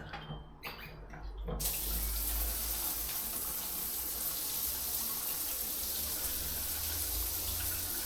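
A bathroom tap turns on after a few faint clicks and water gushes steadily into a sink, loud and continuous to the end.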